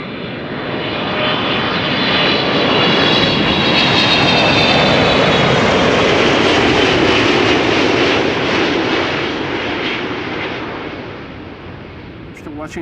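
A cargo plane inbound from Chicago O'Hare roars onto the Kaagbaan runway at Amsterdam Schiphol, the loud engine rumble swelling as it passes and then fading toward the end.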